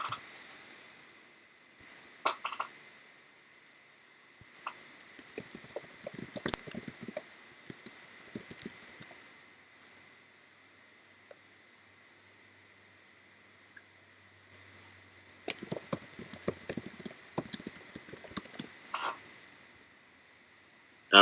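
Faint, scattered bursts of computer keyboard typing come at irregular intervals under a steady background hum, with quiet gaps between the clusters of keystrokes.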